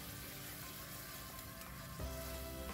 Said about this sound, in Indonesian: Kita masak kembali sampai agak mengental.